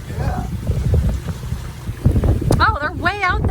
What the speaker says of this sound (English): I get to drive the boat now.